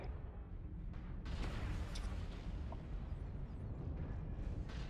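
An artillery strike in MechWarrior Online sets off a dense, continuous rumble of explosions, heavy low booms that roll on without a break.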